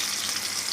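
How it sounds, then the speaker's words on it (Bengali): Chitol fish frying in a pan gives a soft, steady sizzle with faint crackle, continuous through the short moment. "এবার মাছটাকে ভেজে নিচ্ছি।"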